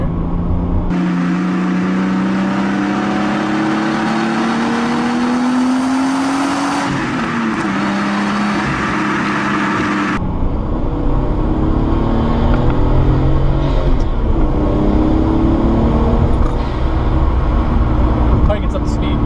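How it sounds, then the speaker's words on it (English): A Nissan Skyline R32 GTS-t accelerates hard, its engine rising in pitch through two gears with a brief shift break, loud and close from inside the car. "And this car accelerates fairly quickly here. I'm gonna do a little quick little acceleration here."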